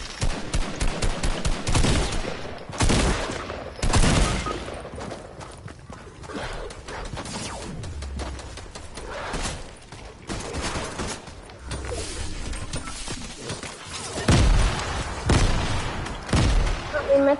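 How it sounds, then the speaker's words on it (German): Rapid bursts of video game gunfire crackle as shots hit the player from behind, loud and close, with repeated rattling volleys mixed with other game effects and mechanical clatter throughout. "Ich werde angeschossen von hinten."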